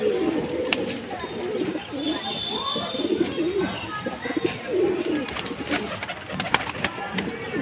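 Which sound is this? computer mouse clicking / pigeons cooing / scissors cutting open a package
pigeons cooing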